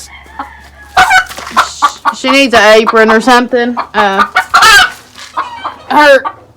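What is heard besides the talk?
hen squawking, chickens and roosters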